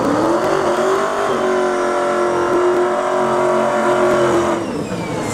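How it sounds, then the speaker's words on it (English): A single turbo Valiant drag car accelerates hard down the strip at a drag racing event, its engine note climbing steadily in a loud, sustained roar with no talk over it. "we have that single turbo Valiant that we usually see on the testing"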